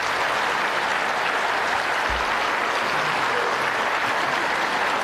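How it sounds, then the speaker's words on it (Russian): Sustained applause from an audience filling a regional parliament hall during the Kurultai session, a steady even roar of clapping with no pauses. "Встаньте, пожалуйста, ребята, давайте мы вам еще раз похлопаем"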